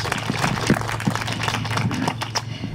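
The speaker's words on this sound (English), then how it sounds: "could I please have a hand of applause for both our two guest speakers?" An audience applauds two guest speakers at a public library event, a moderate, fairly close patter of clapping from a small crowd that thins out toward the end.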